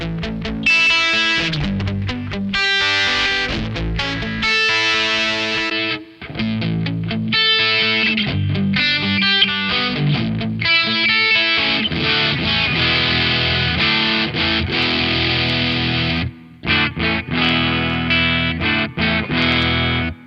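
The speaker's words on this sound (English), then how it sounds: "let's take the IR out and hear that distortion pedal with the onboard speaker simulator." Electric guitar played through a Joyo British Sound distortion pedal using its onboard speaker simulator, loud crunchy chords and riffs ringing continuously with two brief pauses.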